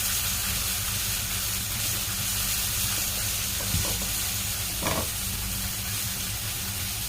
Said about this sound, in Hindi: इसे भी 1-2 सेकंड भून लेंगे कि कच्चापन इसका निकल जाए अच्छी तरह से